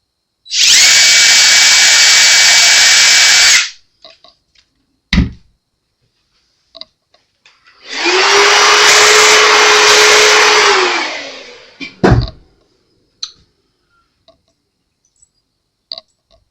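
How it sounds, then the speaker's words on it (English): A power drill bores a shallow pilot hole for a screw in a bass guitar body, with two loud close bursts of whirring, each a few seconds long, separated by quiet gaps with small clicks and knocks. "Now you don't need to go real deep with this. Just enough. To give the screw a pilot hole."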